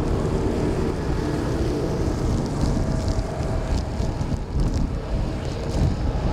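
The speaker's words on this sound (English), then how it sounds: "It's a terrible day. It's wet and windy" Stormy wet weather at Schiphol Airport, with strong wind buffeting the microphone in a constant loud roar and rain hissing over it, plus scattered gusty bursts throughout and no talking.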